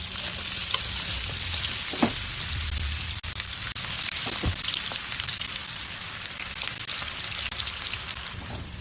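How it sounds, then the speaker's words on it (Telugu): Onion and coriander pakoda frying in hot oil, a steady close crackling sizzle with popping bubbles that runs the whole time, with a couple of brief louder spatters along the way. "ఇక నూనె అయితే వేడి అయింది, నేనైతే పకోడీ అయితే వేస్తున్నాను"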